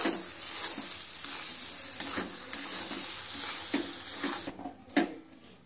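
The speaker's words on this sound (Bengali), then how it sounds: "নাড়তে নাড়তে কত সুন্দরভাবে এখানে আমার সুজিগুলো এখন থেকে একদম ঝরঝরে হয়ে গেছে" Semolina (suji) is stirred in a pan, a steady close scraping and sizzling texture that runs continuously, then thins out near the end with a few louder utensil knocks.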